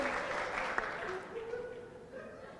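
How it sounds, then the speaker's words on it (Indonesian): An audience claps at a public tourism dialogue in Maluku during a comedian's stand-up set. The applause is dense and continuous, with faint voices and a brief sharp clap standing out. "Tepuk tangan dulu."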